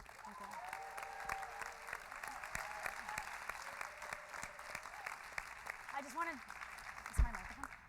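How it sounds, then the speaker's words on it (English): An audience at a Southern history forum in Texas gives Cristina Tzintzún a round of applause, heard as faint, distant clapping with voices talking over it. "I'm so pleased to ask a big round of applause for Cristina"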